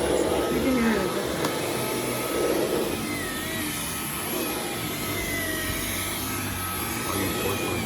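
A Dyson V11 cordless vacuum cleaner runs over a rug indoors, giving a steady, loud, whirring motor drone with slight shifts in pitch as it moves, and faint voices under it.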